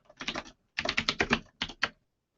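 Quick bursts of clattering keystrokes on a computer keyboard, close and clear, in three clusters separated by short pauses.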